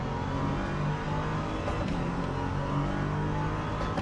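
LMP2 prototype race cars in the Le Mans Ultimate racing game roar past under a steady, dense engine drone, with a continuous loud mechanical whine holding for the whole stretch.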